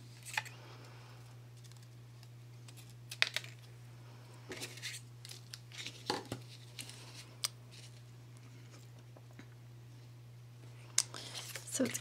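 Scissors cut a paper spider web doily in half, with intermittent crisp snips and rustles, close up, over a steady low electrical hum.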